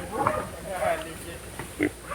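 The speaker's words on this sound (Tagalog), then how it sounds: "Ayan po yung ating mga baboy. Ayan po yung mga biik natin." Piglets in a pen give short, moderately close grunts and oinks, one near the start and others spaced through the moment, over low background noise.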